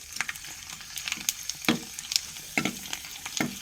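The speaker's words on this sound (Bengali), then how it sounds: "এখন ছাড়ছি বিসমিল্লা বলে এই আমি কড়াই এ দিচ্ছি" Food is dropped into a hot wok and fries there, with loud bursts of sizzling and spattering over a steady frying crackle, close by and without talk.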